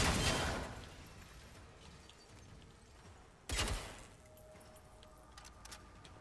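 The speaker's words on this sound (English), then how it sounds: "I accidentally started reloading" Reloading a gun in the video game Generation Zero, metallic clicks and clatter with a sharp burst near the start and another midway, then faint rattling under quiet ambience.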